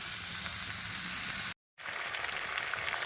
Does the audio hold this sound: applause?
no